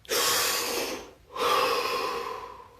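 A deep breath drawn close to the mic: a long airy inhale, a short pause, then a second full breath that trails off slowly, alone with no talk.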